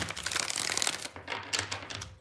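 A deck of tarot cards is riffled and shuffled in quick, dense bursts of papery flutter and snapping, close and fairly quiet, with a brief pause in the middle and no voice over it.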